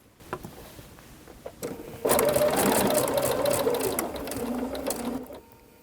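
A sewing machine stitches quilt binding along a binding ruler line, beginning with a few faint clicks and then settling into a steady, close mechanical whirring run for about three seconds before it slows and stops.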